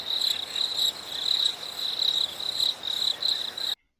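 Steady cricket chirping in pulsed bursts, a continuous insect trill repeating about every half second, fairly loud and alone, stopping abruptly near the end.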